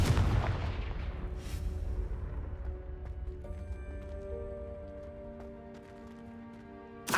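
A Confringo spell blast cast in Hogwarts Legacy, heard as a heavy booming explosion at the start that rolls off into a long ringing, shimmering magical tail with a faint sharp hit near the end.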